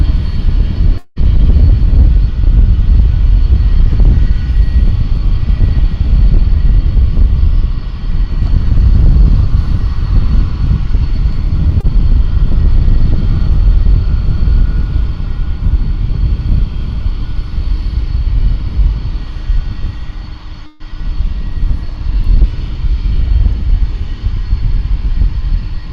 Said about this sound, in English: we're about to see these engines are revving up now